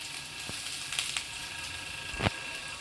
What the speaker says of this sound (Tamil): கடுகு பொறிஞ்சிச்சு வெங்காயம் சேர்த்துக்கலாம் கூடவே நம்ம தட்டி வச்ச பூண்டையும் சேர்த்துக்கலாம்